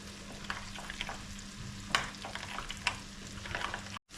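Stirring salted fried onion, pepper and tomato in a pan, with a steady sizzle and a few sharper scraping strokes of the spoon, close up and without any talk.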